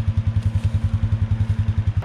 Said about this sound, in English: It's pretty noisy over there with that tractor running.